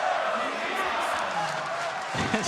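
A large indoor crowd at a League of Legends world championship esports arena roars and cheers continuously, a dense wash of voices and whoops, with a brief louder burst near the end.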